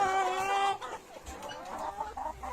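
Chicks cluck nearby in a brooder, with a drawn-out squawk at first followed by softer, scattered clucking from several birds.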